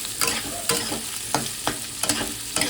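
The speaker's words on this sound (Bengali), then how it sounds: "পেঁয়াজগুলো ভালো করে ভাজা ভাজা করবো" Onions fry in hot oil in a kadai while a spoon scrapes and stirs them in regular strokes, about every half second, over a soft sizzle.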